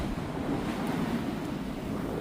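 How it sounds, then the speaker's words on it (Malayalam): Rough sea surging against coastal rocks in heavy rain makes a continuous deep roar, thick with wind buffeting the microphone, loud and unbroken with no voices. "നല്ല സ്ട്രോങ് വേവ് വരുമ്പോഴത്തേക്കും അടിച്ച് കയറുന്നുണ്ട് വെള്ളം"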